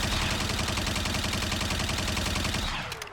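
A Gundam beam rifle fires rapidly in MW3 Warzone, a dense, loud, close stream of shots that holds steady for several seconds, then cuts off and fades into a short tail.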